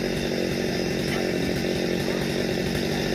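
A chainsaw cuts down a large rain tree that stands right against the wall of a house, its engine droning steadily and loudly through the whole stretch without a break.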